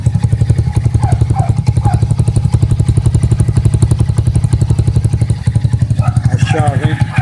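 A moped engine idles steadily without revving, a close, continuous rapid putter that holds an even rhythm throughout, with a brief voice near the end.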